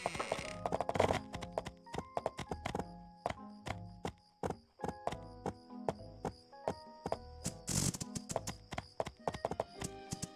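Horse hooves in the video game My Time at Portia clip-clop in a steady walking rhythm, crisp and close, with occasional heavier thuds and no talking.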